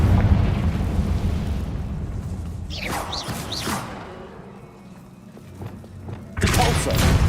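A Confringo blasting spell explodes in Hogwarts Legacy: a loud, rumbling fiery blast that fills the clip, with a character's voice calling out over it midway and a fresh burst of roaring noise near the end.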